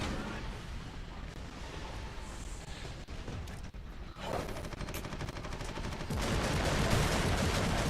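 Grenade blast and gunfire in Warhammer 40,000: Eternal Crusade, with dense continuous battle noise of rapid shots and heavy booms, intensifying toward the end.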